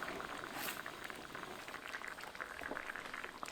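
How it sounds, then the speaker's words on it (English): Risotto stock simmering in a pot, a faint, steady bubbling and crackle that continues without pause and stays quiet and close. "We want to maintain a pretty good, not quite boil, but a pretty good simmer with our liquid"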